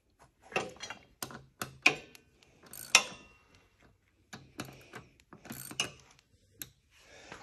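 Wrench ratcheting as a taper lock is tightened onto a spindle pulley: a series of sharp metallic clicks and clacks in uneven bursts, close and fairly quiet, with no talking.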